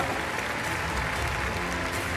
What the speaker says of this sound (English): qui sera ravi d'entendre des applaudissements pour sa jument de 10 ans, elle aussi, Dynamique Zovelem